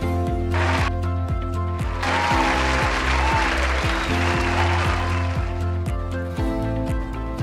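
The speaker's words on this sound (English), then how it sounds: "Time for some virtual applause." Virtual applause at an online school award ceremony: a burst of recorded clapping rises over a repeating musical backing and continues for several seconds.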